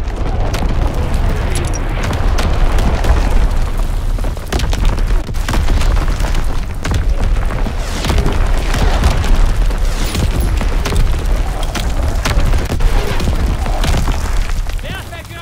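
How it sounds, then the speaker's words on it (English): Heavy artillery explosions boom in Call of Duty WW2 on the Ardennes Forest map in Domination mode, with repeated loud blasts and rumbling over a dense battlefield din while game voices call out. "Incoming enemy artillery!"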